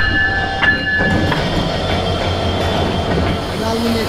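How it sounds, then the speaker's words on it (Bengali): Passenger express train standing at a Bangladeshi station with its locomotive just coupled, a loud engine rumble and metallic clanks and squeals from the cars, with faint chatter in the background. "লোকোমোটিভের সাথে বডি জয়েন করা শেষ, একটু পরেই আমাদের এই ট্রেনটা ছেড়ে বুড়িমারির উদ্দেশ্যে চলে যাবে"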